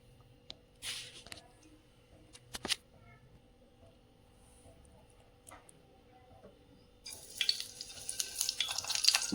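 Stuffed green chilies, filled with flour, are set one by one into a pan with a little hot oil: quiet scattered clinks and taps at first, then a rising, crackling frying hiss over the last couple of seconds.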